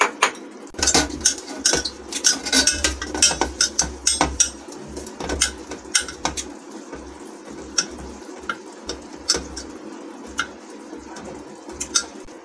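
A metal tray (parat) being handled while greased with ghee, giving repeated light metallic clinks and taps in an irregular rhythm, close and fairly clear, with dull low knocks underneath.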